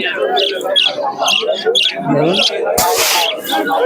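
Many budgerigars chirp and twitter busily together at the Santipur pigeon market, close and lively, with a crowd's voices and market bustle mixed in.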